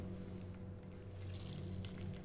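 Faint, steady trickling and dripping as water is squeezed by hand out of grated bottle gourd for kofta, soft and close with small wet crackles.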